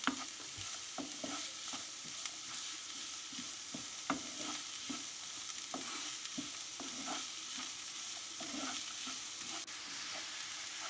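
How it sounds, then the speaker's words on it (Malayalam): Onion being stirred and sautéed in a pan for a creamy bread snack, a soft continuous sizzle with frequent light spoon taps and scrapes scattered through, fairly quiet and close, no voices. "ഉള്ളി ചേർത്തതിന് ശേഷം നല്ലോണം വഴറ്റിയെടുക്കണം"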